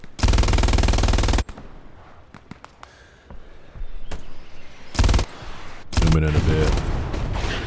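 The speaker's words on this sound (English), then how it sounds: "machine gunner, your job's to lay down the fire" Machine gun fire in the WWII shooter Hell Let Loose: loud, dense sustained bursts, a long opening burst followed by scattered distant shots, then two more heavy bursts, with someone speaking briefly in between.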